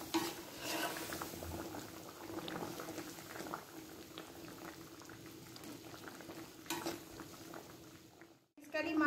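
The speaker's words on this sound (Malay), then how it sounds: "Gulai dah mendidih, seterusnya saya masukkan ikan merah." Mango fish curry (gulai) with red fish bubbling steadily in a pot, a close, continuous simmering burble with occasional stirring clinks and a brief gap near the end.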